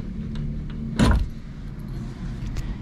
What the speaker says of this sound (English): take this pin out